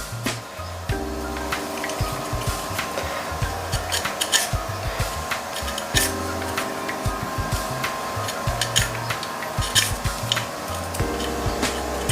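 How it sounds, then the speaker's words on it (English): A small wood planer shaving thin wooden hull planks on a model of HMS Endeavour: repeated short, dry scraping strokes in an irregular rhythm, close and fairly quiet, with no talking. "So now we take our wood planer."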